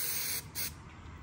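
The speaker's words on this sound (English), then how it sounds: "now all six of them are spray glued at the top" Spray glue hisses from an aerosol can onto pool table rails during a Valley table rail job, a loud continuous spray broken by two brief pauses.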